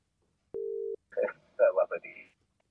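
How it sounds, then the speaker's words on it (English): A single steady telephone tone rings briefly on a call line, then a voice talks after it. "Phone's ringing."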